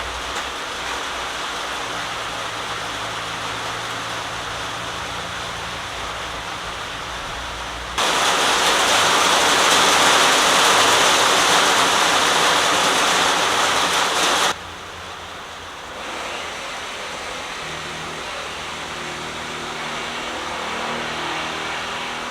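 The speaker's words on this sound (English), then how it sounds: "where is this rain coming from?" Unexpected afternoon rain falls in a steady hiss of dense broadband patter, growing noticeably heavier for several seconds midway before easing back to its earlier level.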